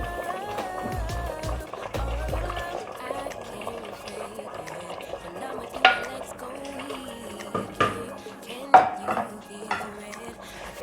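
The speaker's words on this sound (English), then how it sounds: "Now stir it." Yam porridge being stirred with sauce in a pot, heard as soft bubbling and liquid movement broken by several spoon knocks and scrapes against the pot, fairly quiet and close, with brief murmurs of voice.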